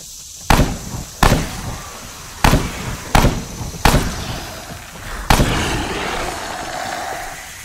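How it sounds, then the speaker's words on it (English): Six sharp gunshots ring out loud and close at uneven intervals in the Dead Frontier video game, each with a brief echoing tail, the last one giving way to a lingering noisy wash. "Of course, the gunshots attract a lot of noise."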